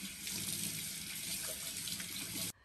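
Tap water runs steadily from a kitchen faucet as fresh scallions and cilantro are rinsed, a continuous close splashing hiss that cuts off abruptly at the end.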